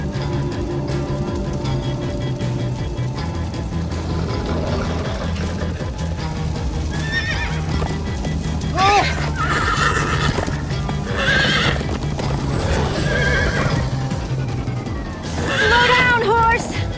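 Horses in a video game neigh and whinny repeatedly over fast, rhythmic hoofbeats, with voices talking and a steady rumbling backdrop.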